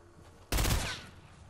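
A burst of gunfire in Fortnite aimed at a supply drop, one sharp loud volley that rings for a moment and then fades, with no voices over it.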